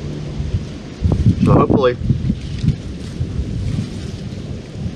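Wind gusting outdoors on a ridge-side campsite under overcast skies, a steady broad roar that swells in the middle, with a person briefly speaking over it.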